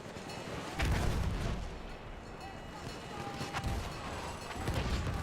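Mortar and dynamite explosions in a Battlefield 1 competitive match boom repeatedly, with a heavy low blast near the start and more rumbling detonations later over a dense battle din.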